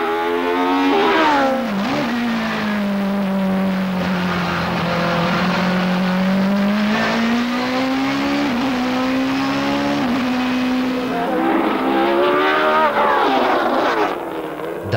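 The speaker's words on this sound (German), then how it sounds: "Der Klang dieses BMW ist und bleibt einfach unbeschreiblich böse." A 2003 BMW 320 race car with a Judd V8 engine climbs a hill, its loud, snarling V8 howling steadily under hard load, with quick gear-shift dips and revs rising again near the end.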